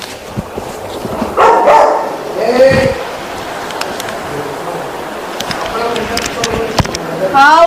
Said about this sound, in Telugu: నేను కుక్కని తీసుకొని పోతా